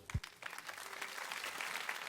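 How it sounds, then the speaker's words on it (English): Audience applause at a hair salon styling showcase, a steady wash of clapping that swells after a brief thump and continues evenly through the moment. "So we should give them a round of applause."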